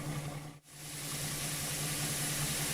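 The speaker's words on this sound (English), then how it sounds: "watched as a red post van pulled into the station car park" A red post van's engine idles and hums as it pulls into a station car park in a Thomas and Friends video game, a steady mid-pitched drone with a brief dip early on.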